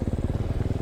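A CMX snow bike engine revving in a brief, close, steady throbbing burst on a slushy backcountry run.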